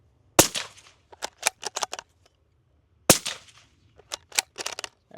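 Two sharp suppressed 5.56 shots from a bolt-action rifle fitted with a SilencerCo Scythe, fired into a dirt berm at an outdoor range. Each crack is followed by a quick string of fainter echoes off the surroundings.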